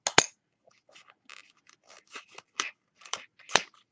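A paper pack being slit open along one side with scissors, a run of short crisp cutting snips and crunches close by, uneven in rhythm with a few sharper louder cuts.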